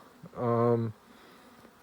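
A single bee buzzes close by for about half a second, a loud steady drone that cuts off abruptly over faint background noise.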